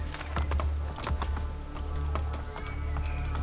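Horse hooves clip-clop at a steady trot in the Assassin's Creed Brotherhood video game, a regular rhythm of moderately loud hoof strikes over a low constant rumble of game ambience.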